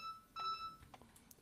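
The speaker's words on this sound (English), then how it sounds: "Oh, bloody hell, that's the phone." Telephone ringing in a shop, a faint electronic warbling ring with steady tonal pulses, followed by a few soft knocks and clicks in a quiet room.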